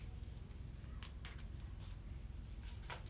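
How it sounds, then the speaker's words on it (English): A small affirmation card deck being shuffled by hand, a run of soft papery riffles and flicks over a low background hum, close and fairly quiet, with no talking. "That's such a cute little deck to shuffle too."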